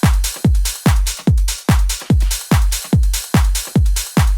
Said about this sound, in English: I added this ride for some more energy in this part